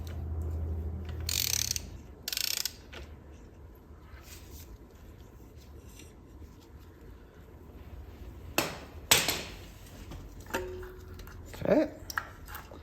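A wrench working a corroded nut loose on the throttle assembly of a first-generation Cummins diesel gives a few scattered metallic clicks and ratchet-like clacks. The louder ones are bunched near the end, over quiet room tone.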